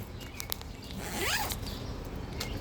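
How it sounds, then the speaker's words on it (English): A zipper is pulled closed on a garden cover protecting carrots from critters, one continuous rising zip near the middle of the clip over outdoor background noise, with a few small clicks around it. "Alright, let me zip them up."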